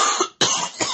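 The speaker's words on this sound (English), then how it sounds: "this cough is killing me" A man coughs three times in quick succession, harsh and close, with a short gap after the first.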